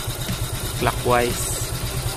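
Kawasaki Fury 125 motorcycle engine idling with a steady, close low putter while its carburetor idle screw is adjusted, with someone talking over it throughout.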